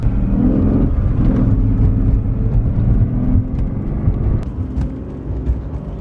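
A twin-turbo V12 Mercedes S600 drives in limp mode, its engine giving a loud, steady low drone and road rumble that eases slightly toward the end, with no talking.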